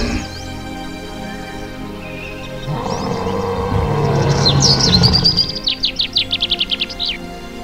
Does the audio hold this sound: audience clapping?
no